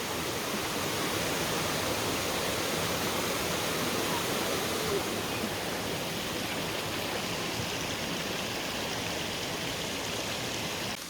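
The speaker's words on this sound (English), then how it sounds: "This is the upper Agura waterfall." The upper Agura waterfall near Sochi pours continuously, a dense, even hiss of falling and splashing water that holds at a constant moderate loudness without variation.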